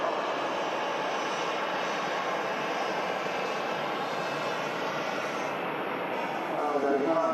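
Ryanair jet taxiing in front of the viewing area at Manchester Airport to Faro: a steady, moderately loud engine rumble and whine holding throughout, swelling slightly near the end, with no talk over it.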